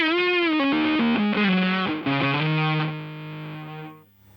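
A heavily distorted electric guitar through a Boss BE-5 with its noise suppressor plays a short descending phrase, then holds a sustained note that fades and cuts off abruptly as if gated.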